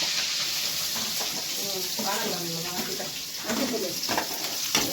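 Onions, curry leaves, coriander and green chillies frying in oil with spluttered mustard seeds, a steady bright sizzle throughout with a voice talking faintly over it.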